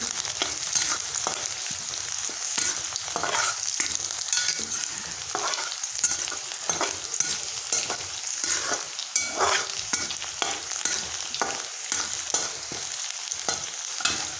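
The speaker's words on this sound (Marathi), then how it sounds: "कांदा आपण एक दोन मिनिट भाजून घेऊ" Chopped onion frying in a pan for a masala pasta, a continuous loud sizzle with repeated scraping stirs of a spoon close by.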